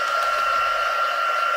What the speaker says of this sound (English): I will dry them off with my heat tool